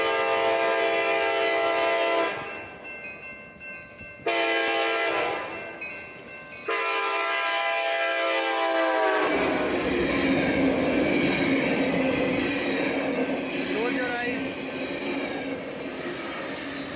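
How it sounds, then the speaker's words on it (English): An eastbound ACE passenger train passes through Pleasanton, sounding two long, loud horn blasts, then a steady roar of wheels and cars rolling close by, with faint squeals. "a short video from Piyush Garg, who caught the eastbound Ace train in Pleasanton."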